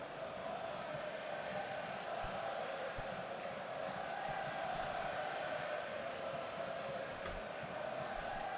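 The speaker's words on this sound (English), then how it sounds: "Crowd really cheering them on" Steady crowd roar from a Sensible World of Soccer match, a continuous wash of cheering noise holding at an even level throughout with no voices on top.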